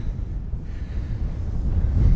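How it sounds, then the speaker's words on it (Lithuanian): Steady gusting wind buffets the microphone, a low rushing roar that swells slightly toward the end, with no voices. "Vėjukas stipresnis."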